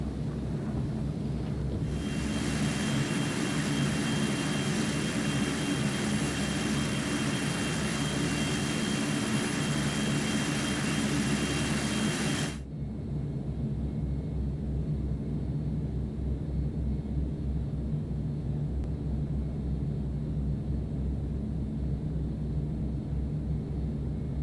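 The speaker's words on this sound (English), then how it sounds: "You can hear the engine power adjusting for the climb power." Fokker 50 turboprop engines in X-Plane 11 drone loudly at climb power, a dense roar with high whine that abruptly drops to a lower, duller steady hum partway through.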